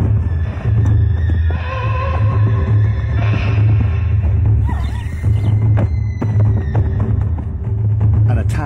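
A wild zebra stallion attacks a foal while the mother zebra fights back: loud, continuous thrashing and scuffling with shrill whinnies and squeals over a throbbing low rumble, close and unbroken throughout.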